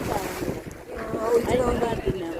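Strong coastal wind buffets the microphone beside the sea at Kodi, Kundapura, a rough rumbling gust under faint surf, with no clear talk.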